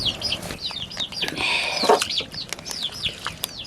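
Several chickens cluck and chatter close by in quick, overlapping calls, with a short burst of flapping wings partway through.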